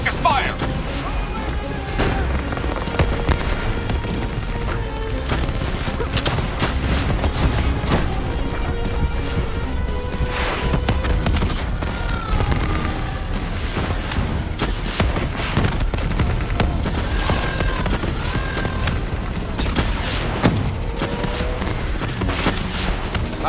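A dense, continuous battle in Call of Duty: Black Ops III, with gunfire, booms and impacts running throughout under urgent voices calling out over the combat.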